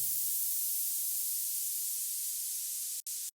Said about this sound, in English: the secret sauce to this whole track is obviously the white noise downlifters